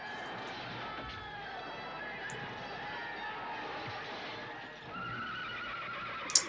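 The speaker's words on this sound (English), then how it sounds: "Poor old horses suffering as usual." Horses neigh amid a dense film battle scene, their whinnies rising out of continuous crowd and combat noise, with a sharp crash at the end.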